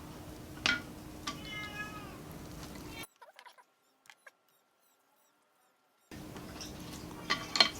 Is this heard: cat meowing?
yes